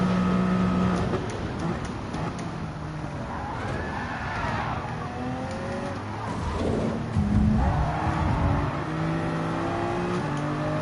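A Toyota Supra race car in Gran Turismo 7 launches off the start line among other cars, its engine revving and whining in rising sweeps with a brief skid, loud and steady throughout with no talk.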